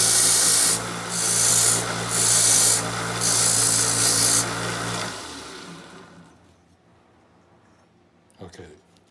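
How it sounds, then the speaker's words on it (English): A file rasps across a saxophone mouthpiece shank in three or four steady back-and-forth strokes, close and loud, before the scraping stops and the room goes quiet with a faint knock. "You can also use a file."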